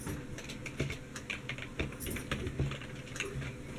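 Computer keyboard being typed on in quick, irregular bursts of sharp clicks, close and clear against a quiet background hiss.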